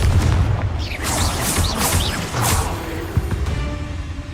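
Confringo spell blasts in Hogwarts Legacy go off as a series of loud, close booming explosions with whooshing bursts, followed by a sharper impact and fading rumble.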